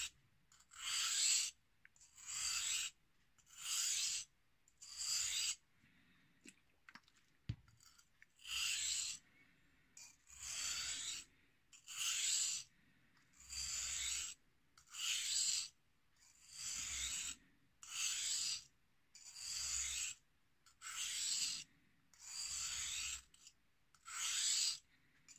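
A carving knife is sharpened with alternating strokes to remove the burr: about seventeen evenly spaced rasping scrapes, each a second or so long, close and clear with short pauses between them.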